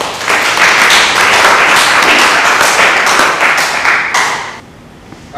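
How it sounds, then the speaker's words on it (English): An audience claps hands at a closing session, a loud dense round of applause that carries on steadily for several seconds before fading out. "can we clap a hand for them"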